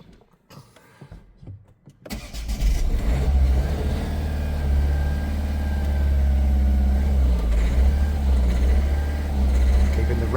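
A Ford C-Max 1.6 TDCi diesel engine cranks after a quiet spell, catches at about two seconds and then runs loud and steady near 2000 rpm with a slight juddering from air in the fuel system, heard close up.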